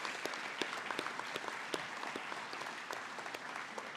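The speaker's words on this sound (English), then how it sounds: "So a big round of applause, please," Applause from a school assembly audience after boys are honoured for making a sports team: steady, dense clapping from many hands, heard alone without talk.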